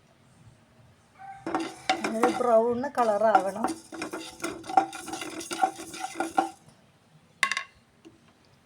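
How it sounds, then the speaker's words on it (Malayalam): Fenugreek and mustard seeds roast in a pan for pickle, stirred with a spoon that scrapes and clinks against the metal in close, busy bursts, followed by a lone late clink; someone speaks briefly. "ഉലുവയെയും കടുകിനെയും ഇട്ട് നന്നായിട്ട് വറുത്തെടുക്കുക"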